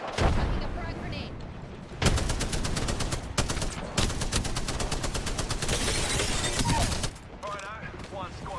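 Rapid automatic gunfire in the Apex Legends battle royale game, loud bursts of sustained firing broken by short pauses, with a few sharper single shots, close and dominant, no talk.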